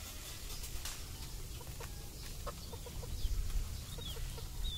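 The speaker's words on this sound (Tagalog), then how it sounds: "Ang daming manok, oh." Chickens clucking and chirping at a moderate distance, scattered calls over a steady outdoor background with no talking.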